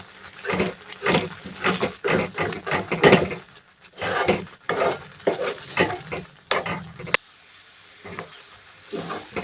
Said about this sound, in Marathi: जोपर्यंत हे मिश्रण कढाईला सोडत नाही तोपर्यंत तेलामध्ये छान असं शिजवून घ्यायचं व्यवस्थित